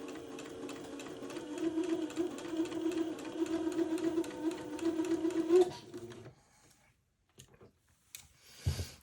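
A sewing machine stitches an elastic casing on a baby garment, running in a fast, steady mechanical whir for about six seconds before stopping, followed by a few soft handling clicks and rustles close by.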